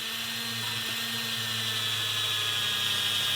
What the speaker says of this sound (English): We're going to take our polishing wheel, polish this whole section in here.